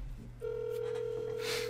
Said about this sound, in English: Okay, I'm calling the client now.